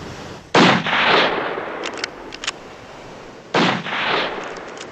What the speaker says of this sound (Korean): 그리고 결국 그들은 자신들이 본 무언가를 총으로 쏴 죽이고 말죠.